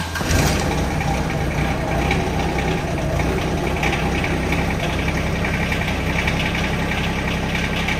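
A Yanmar SA425 compact diesel tractor engine, a 25 hp mechanical-injection unit with glow plugs, runs steadily and close by at a loud idle with a constant low rumble and no talking.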